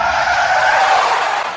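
A car brakes hard with a sustained tire skid, a loud, close screech that holds steady for over a second before cutting off.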